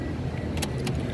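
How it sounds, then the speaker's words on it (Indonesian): A Toyota Rush 1.5 TRD Sportivo automatic from 2015 starts up with a low, steady engine rumble and a couple of sharp clicks during the start, heard alone and briefly. "Sekarang kita coba start mobil ya."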